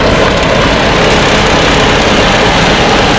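Loud, constant engine drone of a John Deere 5055E tractor running a 10-foot rotary cutter, heavy low rumble and whining mechanical noise, close and unbroken.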